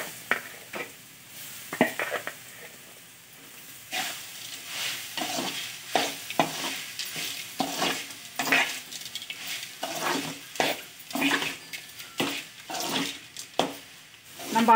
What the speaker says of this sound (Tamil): பெருங்காயத்தூளை போட்டுட்டு நல்லா அப்படி ஒரு கிண்டு கிண்டிடணும்